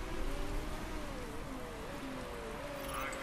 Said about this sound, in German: Es fängt an zu regnen.